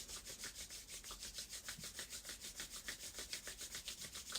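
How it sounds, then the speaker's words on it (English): Palms rub briskly together in a steady back-and-forth rhythm, about two strokes per second, a close, dry swishing friction with no talking. "Just take your hands and rub them together."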